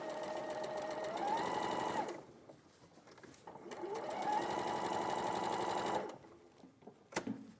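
A sewing machine runs in two long, steady bursts, stitching quilt units together in sets of three, with a short pause between runs and a faint click near the end.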